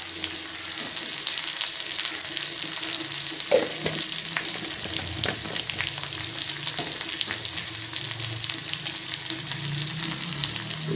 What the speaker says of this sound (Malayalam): ഉള്ളി ഒന്ന് മൊരിഞ്ഞിട്ട് കേട്ടോ.